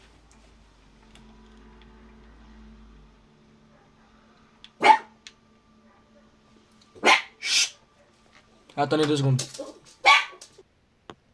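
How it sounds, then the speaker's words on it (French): A dog barks behind a door in a home, a few sharp, separate barks spaced several seconds apart, with someone speaking French briefly between them over a quiet background. "si vous entendez un chien aboyer derrière, c'est qu'il est devant la porte en train d'aboyer"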